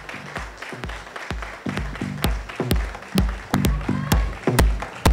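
Audience applause for Harsh Songra at a talk: a crowd's clapping rises and swells over five seconds, with several sharp, loud claps standing out near the front against the steady wash of hands.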